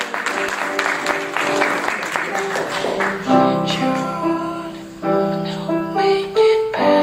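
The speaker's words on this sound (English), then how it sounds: "Give Ben Campbell a big round of applause" An audience at a Swarthmore Rotary event applauds Ben Campbell with a few seconds of steady, close clapping, then fades as piano and music take over.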